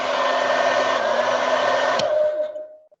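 A hair dryer powered by a portable power station blows with a steady loud whir for about two seconds, then is switched off and winds down into silence.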